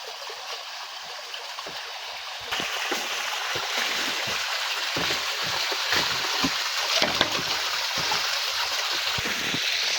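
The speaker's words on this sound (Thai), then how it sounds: "นี่มันก็มาจากซอกเขานี่นะจะมีน้ำไหลมาเห็นไหมครับ" Natural mountain water spilling and flowing through a rocky crevice, a steady broadband rush that grows a little louder partway through, continuous and close with no voices.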